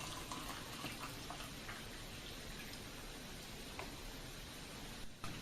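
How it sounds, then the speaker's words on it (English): Hot water pours into a laboratory beaker, a faint, steady splashing and gushing of liquid heard alone, without voices. "Then the beaker is filled with hot water."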